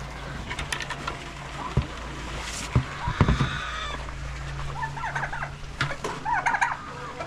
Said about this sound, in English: We certainly have a rooster in here